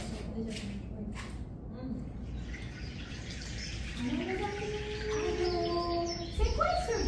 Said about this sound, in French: On dirait qu'il y a des oiseaux.